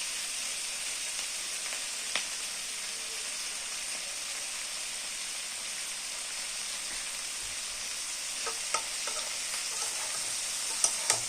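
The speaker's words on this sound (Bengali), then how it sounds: "এটা ফ্রাই হচ্ছে।" Capsicum frying in a pan for chilli paneer, with a constant bright sizzle and hiss, and a few light clicks and taps of stirring, mostly toward the end.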